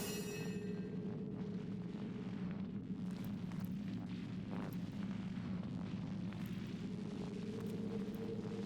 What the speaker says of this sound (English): Light that bitch on fire.